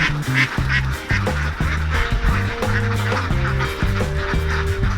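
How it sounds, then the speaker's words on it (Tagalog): Several ducks quack loudly and close together in a harvested rice field, with rapid, overlapping calls in choppy bursts and no pause across the whole stretch. "ducks are allowed to graze and scavenge on newly harvested rice fields"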